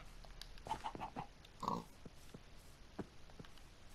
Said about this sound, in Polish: O, tu jest świnia.